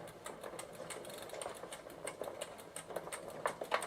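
The drivetrain of a 1993 Gazelle Speciaal bicycle runs rough in third gear, giving a fast, rhythmic chattering tick from the chain and sprockets that is close, steady and slightly uneven.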